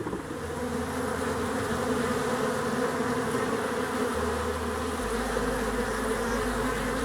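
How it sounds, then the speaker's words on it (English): Honey bees and drones swarm around a hive in a dense, continuous, close buzz that holds steady throughout, with a low drone hum beneath and no voices. "There's a bunch of drones right there."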